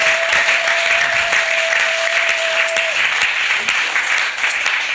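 A church congregation bursts into sustained, dense applause, loud and enveloping, with a faint tone lingering underneath for the first few seconds.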